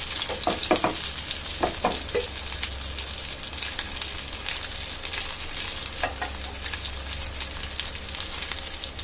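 Pomfret fish pieces shallow frying in a pan crackle with a continuous close sizzle, broken by a few sharp scraping and turning sounds early on and near the six-second mark.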